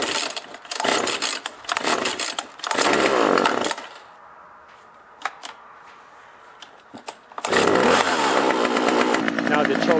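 A Husqvarna 136 chainsaw, fuel line and carburetor freshly repaired, is cold-started with the choke on. There are loud close bursts of engine noise, a quieter gap with small knocks, then the saw roars again.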